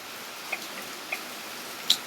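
A few faint, sharp ticks spaced unevenly over a steady background hum, like an indicator clicking inside a quiet car.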